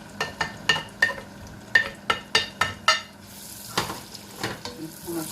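Onions frying in oil in a pan for Lahori koftas, with a run of sharp stirring and scraping strokes over a steady sizzle, then softer, looser scrapes toward the end.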